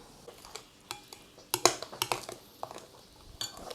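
A spoon stirring a cheese filling for a quick byrek in a bowl, giving a series of soft scraping clinks and taps that come in irregular bursts, close and moderately quiet, with no talking.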